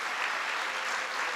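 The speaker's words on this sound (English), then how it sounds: "I think that deserves a round of applause." An audience applauds at a political event in Wheeling, West Virginia, a dense, steady burst of clapping heard alone at full volume.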